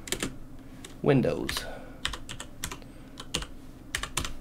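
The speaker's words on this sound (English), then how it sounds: "I'm typing with one hand." Clicky keystrokes on a computer keyboard typed with one hand, irregular taps in short bursts, close by, with a brief spoken word partway through.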